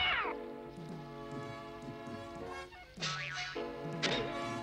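A cartoon cat from a Smurfs episode meows and yowls in several drawn-out, wavering calls, loud and close, with brief pauses and a few thumps between them.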